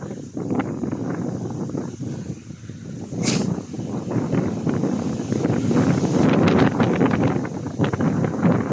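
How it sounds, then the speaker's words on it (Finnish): Gusty autumn wind buffets the microphone in uneven rushes, with rustling and a brief sharp noise partway through. "Täällä on ihan hirveen syksyinen tuuli."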